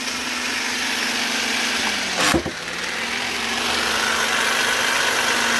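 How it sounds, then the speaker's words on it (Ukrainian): A relay in a 2.2 kWh incubator power bank switches between mains and batteries, giving one sharp click midway through over a constant humming drone from the inverter. "це реле під'єднує нам мережу чи акумулятори"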